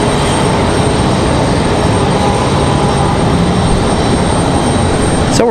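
An American Airlines jet arriving from Charlotte passes overhead at Raleigh Durham airport, a loud, continuous engine rush with a thin high whine, steady throughout and ending in a brief sharp noise.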